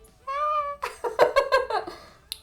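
A high, drawn-out kitten meow followed by a run of shorter, chirpy mews, close by, with a faint voice at the end.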